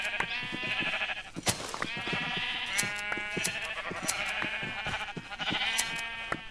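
Sheep bleating in Minecraft, a game with wool-bearing sheep penned on grass, repeating in steady bursts of wavering cries across the whole stretch, fairly loud and close with no talk over them.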